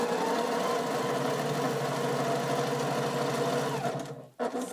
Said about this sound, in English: And off we go to the sewing machine.